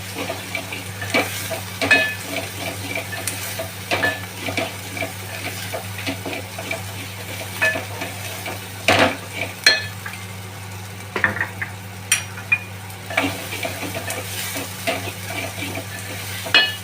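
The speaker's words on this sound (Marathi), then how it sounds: "इथे आलं लसूण पेस्ट आहे, ती पण चांगलं भाजून घ्यायची आहे। मसाले चांगले भाजायचे आहे।" Ginger-garlic paste and spices roasting with onion and tomato in oil for a Konkani-style val bean curry, a steady sizzle broken by repeated spatula scrapes and knocks against the pan, close and fairly loud, with no talking.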